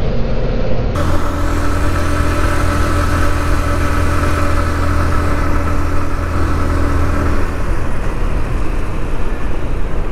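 A vehicle engine with a burnt-out clutch plate drones loudly and steadily, barely pulling the vehicle forward; a constant near rumble with a sustained mid-pitched whine, no voices.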